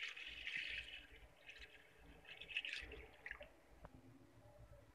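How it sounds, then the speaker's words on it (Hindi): Cut potatoes are washed in water, with faint splashing, sloshing and dripping close by in a quiet kitchen. "अब हम इनको अच्छे से धुल लेंगे।"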